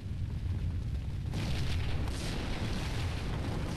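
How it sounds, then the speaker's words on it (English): Fire spreading and roaring in the Max Payne video game, a steady broadband rumble with dense low crackle that swells louder after the first second and holds, with no talk over it. "This fire is catching really fast"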